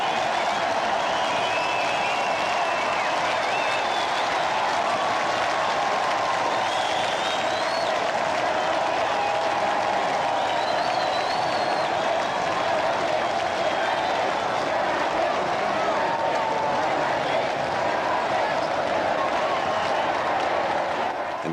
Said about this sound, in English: Which receives a roar of approval from the crowd, who call the couple back and back again onto the balcony.